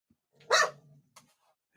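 Pet dogs indoors give one sharp, loud bark, then a few softer, brief yelps and whimpers close by, with no talk over them.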